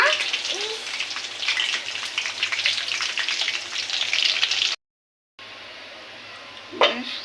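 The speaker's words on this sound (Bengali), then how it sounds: "সরিষাটা দিয়ে একটু নেড়ে নিলাম" Black and white mustard seeds sizzle and crackle steadily in hot oil as they are stirred for an olive pickle, a dense frying hiss that runs on, breaks off briefly, then resumes with a sharper scrape near the end.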